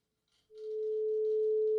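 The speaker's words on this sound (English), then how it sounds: "So we've got a sine wave, which we are not hearing." A steady sine wave test tone, fed through a clipping circuit and monitored on an oscilloscope and spectrum analyzer, swells in after a short pause and holds as one clean, pure pitch that grows loud and stays even.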